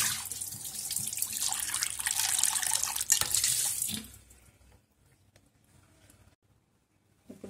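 Water runs from a tap as a rusty cast iron kadai is washed, a loud splashing stream for about four seconds. It then cuts off, leaving faint drips and quiet.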